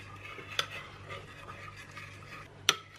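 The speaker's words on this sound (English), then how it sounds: "So we'll give it a good gentle stir through to get the chocolate nice and melted," A spoon gently stirs hot cream into chocolate and butter in a bowl while they melt, a soft, quiet scraping under low background hum, with two sharp clinks of the utensil against the bowl.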